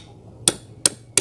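A hammer strikes a stuck pulley on a cement mixer shaft three times, each blow loud, sharp and metallic, with uneven gaps between them.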